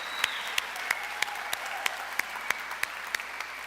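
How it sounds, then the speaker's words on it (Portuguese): A church congregation applauds graduates, giving steady, sustained clapping that fills the room at moderate loudness, with no voices over it. "Eu quero que eles possam ficar de pé e você dar uma salva de palmas para a vida deles."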